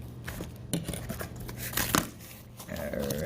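Scissors cut open an Amazon Prime package holding an Arrtx marker set, with a few crisp snips close by and some crinkling of packaging between them.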